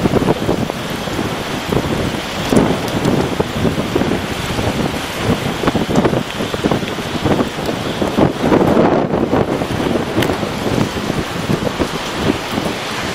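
Hurricane Charley lashing the area with strong wind and heavy rain, a loud continuous roar of gusts and downpour with buffeting against the microphone throughout.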